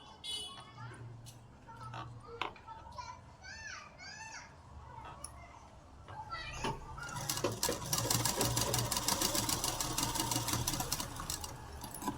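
A sewing machine stitches lace onto a ruffle sleeve: bird chirps and faint voices come first, then the machine runs in a loud, rapid, even whir for several seconds before easing slightly.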